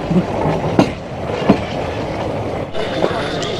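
Nilgiri Mountain Railway train, diesel-hauled, rolling from Coonoor toward Ooty: rhythmic clickety-clack wheel beats recur about every three-quarters of a second over a moderate running rumble, with no voices.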